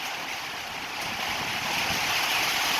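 Steady roaring wind from Typhoon Rai (Odette) in the Caraga region, broad and rushing, building slightly in strength, with buffeting against the microphone.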